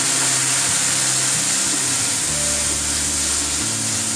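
Stuffed okra masala fries in a pan after a little water is sprinkled over it, making a dense, steady, close sizzling hiss with a low hum underneath and no talking.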